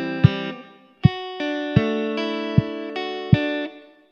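Acoustic guitar strums a short chord passage from a song, five or six clear strikes in an even rhythm, each ringing out before the next.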